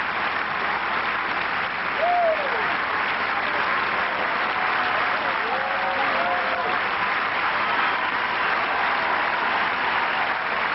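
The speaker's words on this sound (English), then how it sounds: "Standing ovation for both players." A tennis crowd at Roland Garros rises in a standing ovation, with dense sustained applause filling the stadium for the whole stretch as commentators talk over it.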